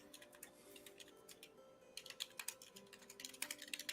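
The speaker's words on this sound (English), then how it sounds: "Your keyboard is really loud." Rapid clicking of a loud computer keyboard during an online tabletop game session, the keystrokes uneven at first and then quickening into dense bursts near the end.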